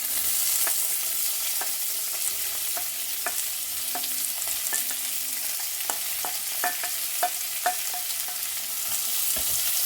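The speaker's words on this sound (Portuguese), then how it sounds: "Aqui o alho já tá moreninho, então a gente já pode entrar com a nossa cebola picadinha" Chopped onion sautéing in oil with garlic already browned, a soft continuous sizzle broken by repeated sharp clicks and scrapes of a spoon against the pan.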